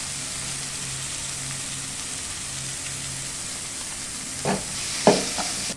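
Fish curry masala, turmeric and tomatoes sauté in a pan for a bitter gourd tamarind curry, giving a soft, continuous sizzle near the end, followed by a few louder spoon scrapes and clinks.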